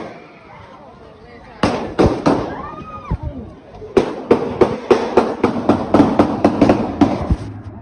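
Gunshots from footage of a mass shooting in Tampa ring out: three sharp cracks, then a long rapid volley of loud, echoing bangs, with voices heard before the shots.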